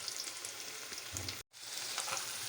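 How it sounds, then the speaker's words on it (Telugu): Chopped onions sizzle and fry in a pan, a steady crackling hiss that drops out for a brief moment and then resumes, with no voices. "ఇప్పుడు ఆనియన్స్లో కొంచెం సాల్ట్ వేసుకుంటే ఆనియన్స్ బాగా వేగుతాయి"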